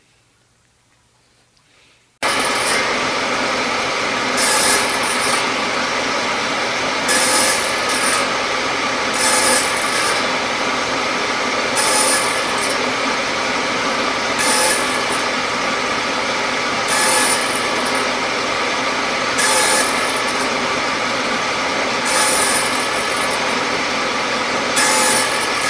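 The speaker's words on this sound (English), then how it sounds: "So I'll just go ahead and cut that angled dado in there." A saw cuts an angled dado into wood with repeated strokes: a steady rasping hum broken by regular bursts of sharper sawing every couple of seconds, close and loud, following a brief quiet start.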